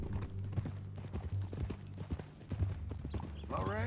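Horse hooves clip-clopping at a steady walking rhythm in Red Dead Redemption 2, with a low game music bed, brief talk and a horse whinny near the end.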